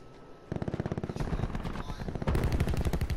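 A sentry gun fires rapid automatic bursts in Call of Duty Black Ops 4, a close, loud, evenly pulsed rattle that runs nearly continuously and grows heavier partway through, with faint game sounds beneath.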